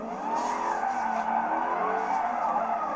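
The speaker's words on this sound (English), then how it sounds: "I've decided I'm going to do some donuts" Dodge Charger Hellcat Redeye spinning donuts, tires squealing and skidding in a loud, sustained wail with wavering pitch over the rumble of the engine, close by.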